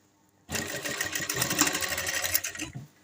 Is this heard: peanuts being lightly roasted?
no